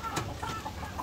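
A bulik gamefowl, one of two sibling roosters kept for crossing with black hens, clucks in a cage with a few short, close calls spread over about a second.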